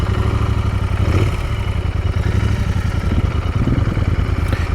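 A Royal Enfield Continental GT 650 twin-cylinder motorcycle being ridden, a steady, loud engine drone with continuous rumble and clatter throughout, no talking.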